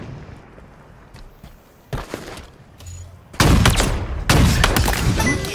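Rapid bursts of gunfire from the Halo video game during Big Team Battle slayer on the Oasis map, starting with sparse distant shots and swelling into loud, sustained firing in the second half.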